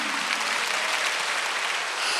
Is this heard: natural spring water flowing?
no